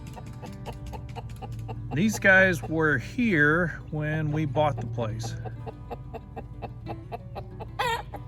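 Farm chickens clucking around their small isolated coop just outside a barn at the edge of a pasture, steady intermittent calls under a person talking nearby.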